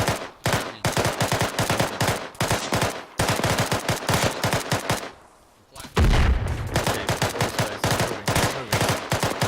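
Rapid bursts of rifle fire during platoon training, sharp cracks in dense volleys with brief pauses, one short lull before firing resumes with a heavy low thump, close and loud.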